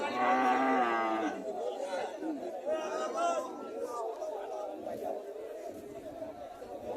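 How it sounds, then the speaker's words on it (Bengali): A native dairy cow at a cattle market in Cumilla gives a loud, drawn-out moo at the start, followed by the murmur of a chattering crowd and people talking nearby. "এখানে একটা গাভী দেখা যাইতেছে"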